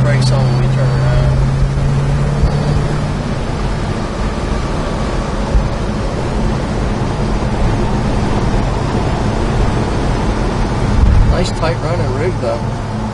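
A 1964 Chevrolet El Camino driving, its steady engine and road rumble running throughout with a low engine drone near the start, while someone talks over it.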